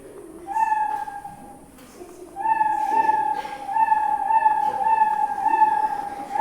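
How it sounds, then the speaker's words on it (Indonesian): A cartoonish cat meow given to an animated dinosaur in a coding lesson sounds repeatedly, bright and tonal, in several drawn-out calls one after another with short gaps between them. "dinosaurusnya sekarang punya suara seperti kucing gitu ya"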